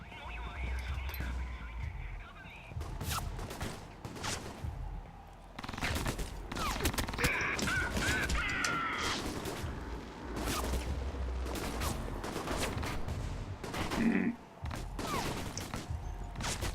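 Fireworks and gunfire in the video game Alpha Protocol, with repeated sharp bursts and rapid volleys of shots scattered across a rumbling background, some clustered into quick fusillades, at moderate distance.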